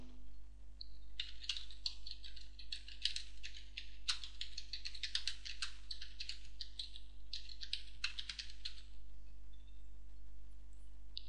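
Rapid clicky keystrokes on a computer keyboard type an initial value into a Dreamweaver form field, in several quick bursts over a steady low electrical hum, close and fairly quiet.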